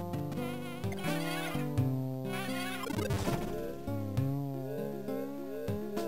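Busy game music and sound effects from Wario Land 4 on the Game Boy Advance fill the whole stretch, with a buzzing insect-like warble rising and falling through it.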